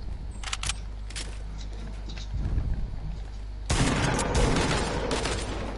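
Fortnite gunfire: a few quick shot bursts early, then a louder dense volley of rapid shots in the final seconds, close and harsh.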